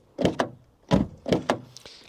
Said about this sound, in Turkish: Kapılar açılırken ucuz, kapanırken pahalı gibi hissettiriyor.